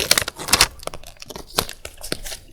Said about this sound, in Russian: Следующий пакетик распакуем.